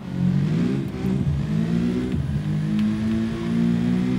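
A bus engine in BeamNG.Drive revs at full throttle, a loud droning roar whose pitch dips and climbs again, steady and close with no voices.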